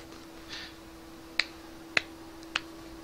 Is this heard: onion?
no